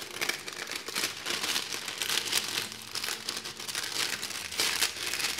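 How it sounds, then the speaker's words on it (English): Continuous crinkling and rustling of a plastic bag as a bar of cold process soap and a card are slid into it, close and steady throughout. "So you just grab your soap along with the card and slide it into the bag"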